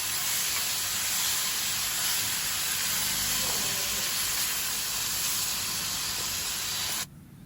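One kilogram of country chicken fries in hot oil while being stirred, giving a loud, steady, close hiss and sizzle that cuts off abruptly near the end.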